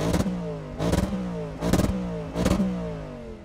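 High-performance sedans, a BMW M3, an AMG C63 and an Audi RS4 with V8 engines, rev loudly in four sharp bursts about a second apart, each quickly rising and falling back to a steady rumbling idle.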